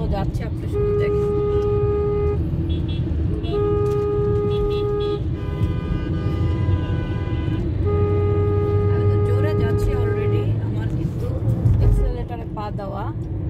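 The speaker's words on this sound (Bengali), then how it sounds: "দেখেন কিভাবে গাড়িগুলো যাচ্ছে" Night road traffic in Bangladesh rumbles steadily past, with a vehicle horn sounding in several long, loud blasts over the continuous engine noise of passing cars.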